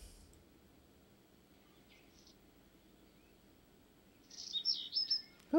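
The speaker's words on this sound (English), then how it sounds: "Look at Miss Cat hunting the birds" Birds in the video game Amanda the Adventurer 2 chirp in a short burst of bright, high calls near the end, after a stretch of quiet ambience with only faint tones.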